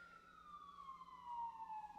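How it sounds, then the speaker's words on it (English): A police siren wails far off outside in one long, slowly falling tone that swells a little toward the end and stays faint throughout. "here comes another siren"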